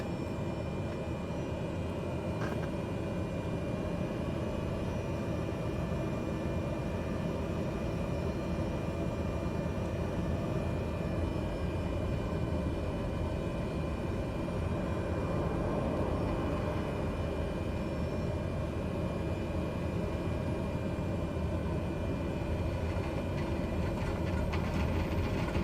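Prop-driven airplane engines run at takeoff power: a dense, steady roar and drone holding level for the whole stretch, loud and close, heard from inside, with no talk.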